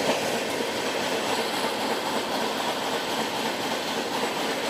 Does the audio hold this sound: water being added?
no